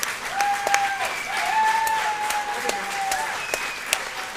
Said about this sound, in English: You can hear everyone cheering.